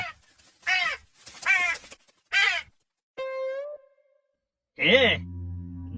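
Cartoon crow caws sound in a few harsh, nasal bursts alone, interleaved with short animated voice sounds and a sigh-like groan, followed by a louder drawn-out caw near the end.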